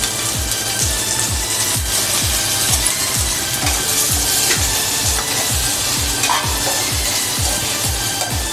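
Onions and tomatoes frying in a pan for a sandgé gravy, stirred with a steady, rhythmic scraping about once a second over a constant loud sizzle, no voices.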